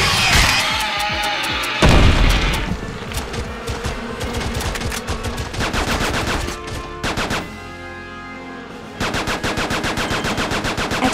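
Rapid automatic gunfire from the Xbox 360 shooter Attack of the Movies 3D, loud and close, with dense bursts of repeated shots, a heavy boom near the start and a brief lull before the firing resumes.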